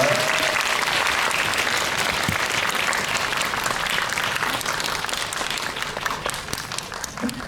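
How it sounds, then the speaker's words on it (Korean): A cinema audience at a special screening Q&A at CGV Yongsan applauds as the director and two actresses are introduced, a dense, sustained roar of clapping that slowly thins toward the end. "박수 부탁드립니다"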